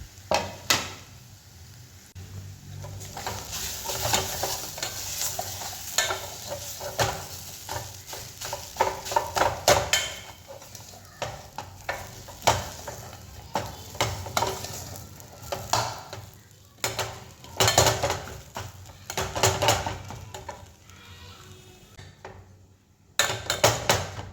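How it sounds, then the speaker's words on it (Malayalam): Boiled potato is mashed and mixed into a chicken filling for Kerala kilikoodu. Steady scraping, thumping and stirring carry on for over twenty seconds at close range, with no talking. "നമ്മൾ നന്നായിട്ട് അതിൽ നിന്ന് ഇടിച്ച് മിക്സ് ചെയ്തെടുക്കുക"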